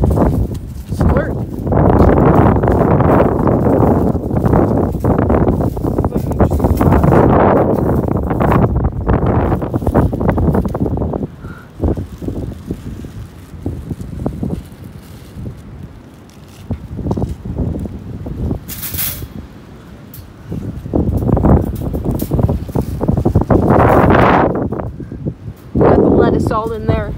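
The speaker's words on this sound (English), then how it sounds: "it's pretty windy outside right now" Gusty wind buffets the microphone outdoors, a steady low roar that rises and falls while someone talks over it.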